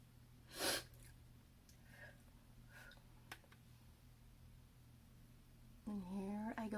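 A single sharp, sniffly nasal burst from someone with bad allergies, close and brief, followed by quiet and a few soft ticks before a voice starts talking.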